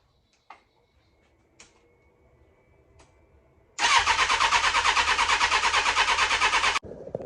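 A 1998 Suzuki GSX750F motorcycle with freshly rebuilt carburetors cranks and catches, then runs loud and steady for about three seconds after a few quiet clicks and knocks, before cutting out abruptly.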